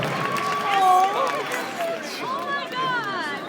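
A convention hall audience at a WonderCon Shadowhunters panel applauds and cheers, a broad steady wash of clapping with high whistles and shouts over it.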